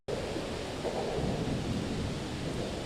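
A thunderstorm with a heavy downpour in the Houston area, with dense, loud, steady rain roaring throughout and low thunder rumbling beneath it, with no voices.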